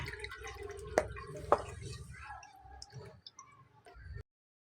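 Water for homemade pani puri is strained through a sieve, giving a steady trickle with a couple of sharp drips and splashes, close and fairly quiet, before the sound cuts off abruptly.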